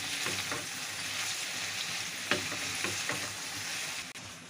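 Brinjal and potato being stirred with oil in a pan give off a steady close sizzle, with a few soft scraping strokes of the spoon rising above it and no talking.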